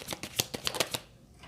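Tarot cards being shuffled by hand, a quick run of crisp riffling flicks and slaps close by that stop abruptly, leaving near silence.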